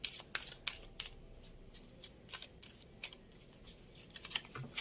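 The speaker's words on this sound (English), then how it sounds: "ये cards थोड़े बड़े हैं, so it takes time to shuffle them" Oversized tarot cards riffle and slap together in quick, crisp bursts of papery flicks, close and fairly quiet, with short pauses between shuffles.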